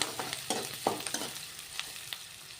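Onions frying in a pan for a ridge gourd stir-fry, with soft sizzling under a string of sharp stirring scrapes and clinks spaced through a short, close stretch with no talking.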